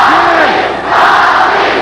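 An overflow crowd at the Sportatorium wrestling arena in 1984 roars and chants in loud rhythmic unison during the One Man Gang versus Great Kabuki match, with voices rising and falling in waves.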